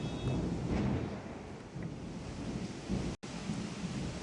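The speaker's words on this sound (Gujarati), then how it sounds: "રિંગ રોડ અને આસપાસના વિસ્તારોમાં પણ ગાજવીજ સાથે વરસાદ થયો" Thunderstorm over a ring road area in Rajkot: steady rain hiss with low rolling thunder rumbling throughout, fairly loud and continuous, with a brief dropout near the end.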